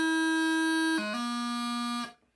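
A bagpipe practice chanter steps from D down to low A with an audible crossing blip between the notes, a bright reedy tone that is held, briefly glitches, settles on the lower note, then stops cleanly.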